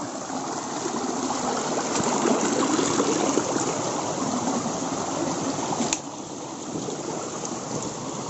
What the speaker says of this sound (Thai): แม่น้ำสายเล็ก ๆ อีกสายหนึ่งนะครับ